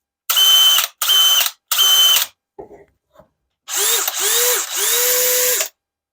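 A DeWalt compact drill set to speed 3 fires off three short bursts, then goes quiet, then makes two longer whining runs. The motor pitch rises as each longer run spins up, and the sound is close and loud.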